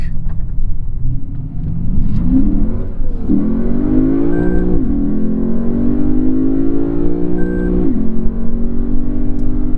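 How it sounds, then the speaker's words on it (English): The naturally aspirated V8 of a 2015 Lexus RC F revs up through its gears, pitch climbing and dropping at each shift, with a deep, throaty rumble throughout. "the highlight of this car is clearly that naturally aspirated V8"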